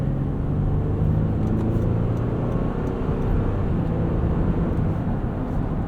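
Cabin of a 2023 Honda Pilot Trailsport SUV with a V6 and 10-speed automatic, driving on the road. A steady, loud low rumble of engine and road noise runs throughout.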